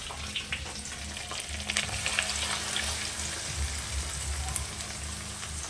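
A paste of poppy seed, cashew and melon seed fries in a pan with a soft, rain-like sizzle that swells and holds steady, with faint stirring and no voices.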